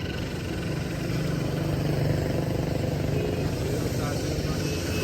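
A tractor engine runs steadily during a test drive, giving a constant low mechanical drone that holds at an even level throughout, with no clear revving.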